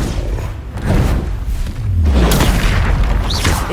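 A Confringo blasting curse goes off in the Hogwarts Legacy video game, giving a loud deep boom with a thudding impact and a rumbling, crackling tail amid battle noise.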